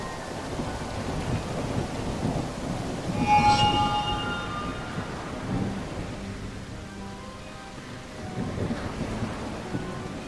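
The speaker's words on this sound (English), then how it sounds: "Rain, rain came down today" Rain and thunder in the video game Genie Reprise: steady rainfall under deep rolling thunder that swells loudly partway through and then fades, with no one speaking.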